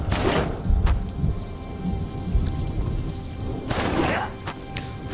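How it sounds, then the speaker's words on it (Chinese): Steady rain with thunder rumbling on Summoner's Rift in League of Legends, a continuous hiss with low booms, the loudest at the start and again around the middle. "召唤师峡谷下雨"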